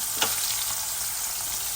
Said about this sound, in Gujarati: તો દેખો તો વઘાર કરી રહી છે મમ્મી